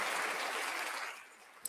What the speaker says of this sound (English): Let's go to the applause button